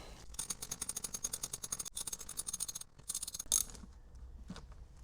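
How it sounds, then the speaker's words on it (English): An 8mm socket ratchet turns out bolts on a Fisker Ocean, giving rapid, close pawl clicking in quick bursts with a brief pause and a sharper clack near the end. "Going to use the 8mm socket, and I'm going to take these guys out."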